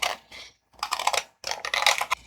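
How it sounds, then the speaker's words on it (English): Scissors trim small pieces of paper for patchwork pocket envelopes, giving crisp, close snipping bursts in quick clusters separated by short pauses. "I'm able to bring in my scissors and trim this out."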